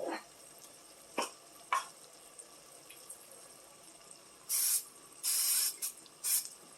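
Cooking spray hisses from a can into a Dutch oven of refried beans, several short bursts close by, with faint clicks between them in a quiet kitchen.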